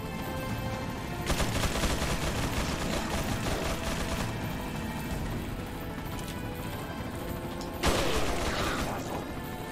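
Gunfire in Resident Evil 4 on professional difficulty, with two loud, rattling bursts of shots standing out over a steady mechanical game background.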